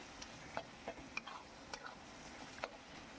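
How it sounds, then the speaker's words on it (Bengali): Tomatoes sautéing in a pan of mutton keema, a soft, low sizzle with a few light scrapes and taps from a stirring spoon, quiet and close. "টমেটোটা দিয়ে দেখুন খুব সুন্দর করে আমি একটু কষে নিচ্ছি"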